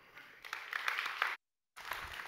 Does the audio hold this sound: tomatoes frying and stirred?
no